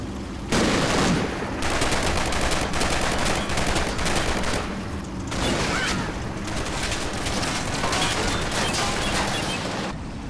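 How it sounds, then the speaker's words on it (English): Sustained gunfire aimed at a Soviet tank in the World War II video game Combat Mission Red Thunder, a loud continuous rattle of shots with a brief lull midway before the firing resumes. "The second Soviet tank is spotted and taken under fire."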